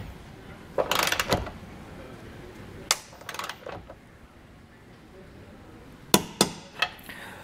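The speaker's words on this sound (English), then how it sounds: "make sure that you are properly torquing these down" A torque wrench tightens the bolts of a hidden hitch receiver on a 2020 Tesla. Several clusters of sharp metallic clicks and ratcheting taps come in bursts, close by, separated by quieter pauses.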